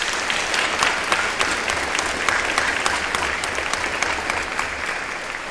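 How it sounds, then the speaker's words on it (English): Audience at a cadet ceremonial review and change of command ceremony applauds the parents, sustained dense clapping at an even level throughout, with no voices over it. "Round of applause for your parents."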